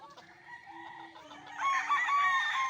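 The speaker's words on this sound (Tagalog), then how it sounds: "ayan o mga manok" Chickens cluck and a rooster gives a short crow-like call, close by and fairly quiet, rising in intensity toward the end.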